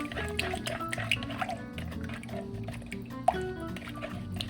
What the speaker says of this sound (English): I'm gonna mix all of this together and try to break that peanut butter down just a little bit